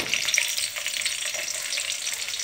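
Onions sizzle and crackle steadily in a hot pan while cooking moong dal, a bright continuous frying hiss with occasional pops.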